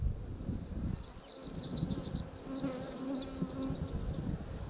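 Bees buzz in a dense, continuous drone around an opened hive during a hive check, close and steady with a few louder passes near the ear and no talk.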